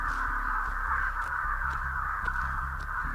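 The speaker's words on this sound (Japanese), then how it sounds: "なんかめっちゃカラス飛んだ。" Several crows caw repeatedly as they take off outdoors, the calls moderately distant over a steady low hum.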